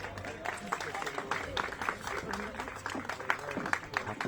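Wedding guests applauding as the bride's witnesses are invited up, a lively patter of many hands clapping at a steady rate, with voices mixed in underneath.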